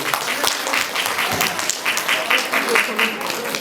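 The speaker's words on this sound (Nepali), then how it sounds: "यस कार्यक्रमको गरिमाको लागि एकपटक सबैले तालीद्वारा सम्मान गरिदिनु अनुरोध गर्दछु" An audience at an annual anniversary celebration honouring fifty people, from beauticians to social workers, breaks into steady applause, many hands clapping together in a dense wash, with a voice speaking alongside.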